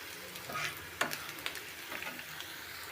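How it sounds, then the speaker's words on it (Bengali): Chopped onion and garlic fry in oil, making a soft, steady sizzle with faint stirring clicks, quiet and close, without speech. "এখন আমি এই তেলের মধ্যে পেঁয়াজ আর রসুন কুচিটা দিয়ে দিই।"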